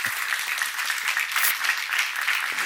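A church congregation applauding during a sermon, a steady wash of moderate clapping that continues evenly throughout without speech.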